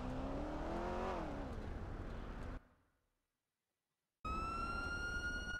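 A police vehicle siren wails loud and close, rising and falling before abruptly cutting off into near silence, then a steady high electronic siren tone starts up again.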